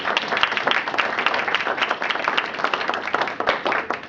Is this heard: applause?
yes